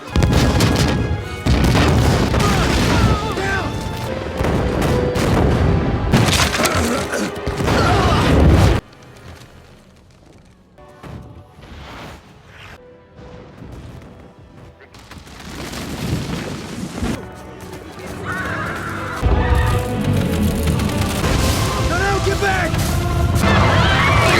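Explosions tear through an attack scene in the Avatar film, loud booming blasts and crashing debris in bursts, a quieter stretch in the middle, then more heavy detonations with voices mixed among the chaos.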